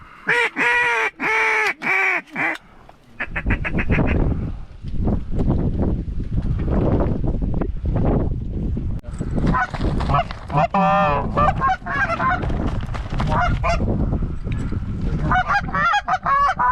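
Geese honk loudly overhead in flight above big open water during a snowy hunt, a chorus of repeated calls first close and clear, then mixed with wind and boat rumble as the birds circle back.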